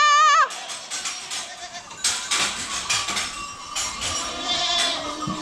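Goats bleat in a run of wavering calls, one clear quavering cry up front followed by several overlapping bleats close by.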